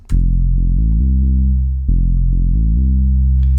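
Bass-guitar-style synth bass programmed in Serum from a basic analog waveform, playing a solo line of sustained, steady low notes with a few pitch changes, loud and alone with no other instruments.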